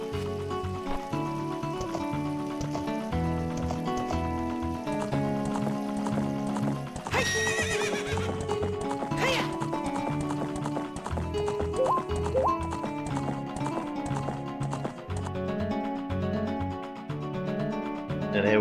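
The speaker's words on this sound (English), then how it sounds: "Link, get on the horse." Horse neighs and hoofbeats clop steadily from a game of The Legend of Zelda: Ocarina of Time, layered over continuous game music, with a sharp whinny cutting through midway.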